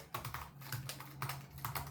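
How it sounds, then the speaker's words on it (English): Typing on a MacBook Pro butterfly keyboard, a steady run of crisp, shallow key clicks in uneven bursts, close and clear with no talking. "I like how the keyboard presses."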